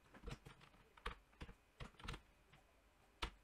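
Keys on a computer keyboard are tapped as a formula is entered into math software, about ten crisp, uneven clicks close to the microphone, with no talk.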